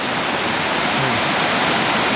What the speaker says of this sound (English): This is the creek coming out of Ann Lake.